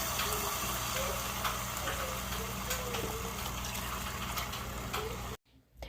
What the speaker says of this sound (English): I'm going to add in my broth.